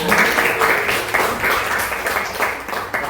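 Students in a class on Islamic inheritance law applaud in unison after a quiz answer, a steady run of fairly loud, close claps with several sharper beats.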